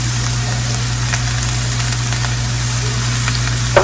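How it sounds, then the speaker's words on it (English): Ground meat seasoned with seasoning salt, chili lime and pepper browns with onions in a pan, giving a steady, close sizzle over a low hum, with a faint scrape near the end. "we're just going to brown the meat, combine the onions with the meat as we're going along"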